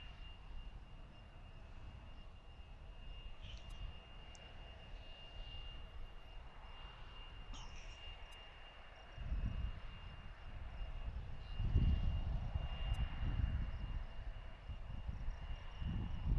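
A fixed-wing airplane on approach to land on runway 36 right at a busy cargo airport, a faint distant engine drone that grows louder and rumbles toward the end over outdoor ambience.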